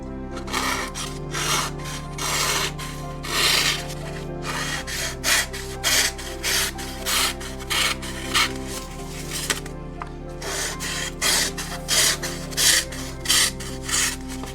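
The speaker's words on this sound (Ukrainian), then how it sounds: "за допомогою даного напильника ви можете в будь-який час його підправити" Hand file sharpening the blade of a counterfeit Victorinox knife, close rhythmic rasping strokes repeating steadily over a continuous low background hum.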